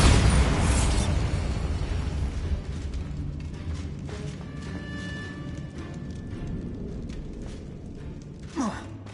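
Spell explosions from the Confringo and Bombarda spells in the Hogwarts Legacy video game: a loud booming blast at the start that decays into a rumbling tail, followed by scattered bursts and a brief whooshing sweep near the end.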